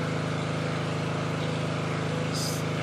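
A Turgo hydro generator runs under load at about 1700 RPM with 20 PSI water pressure, giving a steady, close mechanical drone with a constant rushing, water-driven texture and a short brighter hiss near the end.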